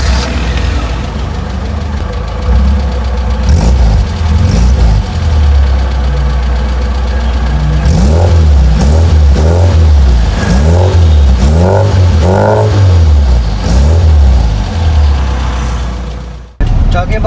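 Classic Mini Minor engine with a modified Fletcher intake and carburetor, loud and close, running with rising and falling revs, then a rhythmic series of swelling revs, ending with an abrupt clunk.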